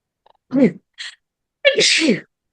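A person sneezes loudly with a sharp inhaled buildup, a brief pause, then a forceful explosive burst.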